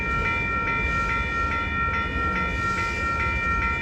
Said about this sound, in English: This town is full of trains.